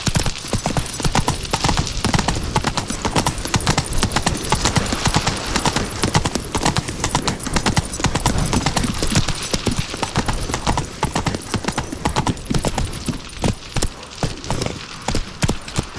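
Horse hooves galloping in the video game The Witcher 3, a dense, continuous, loud rapid drumming of hoofbeats that runs throughout with no break.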